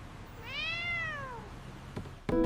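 A single drawn-out cat meow rises and falls clearly close by, followed by a couple of brief clicks and a sharp knock at the end.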